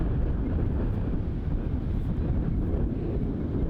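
Wind gusts roar steadily across a disc golf course during a Melbourne pro tournament round, a continuous low rumbling buffet against the microphone with no voices.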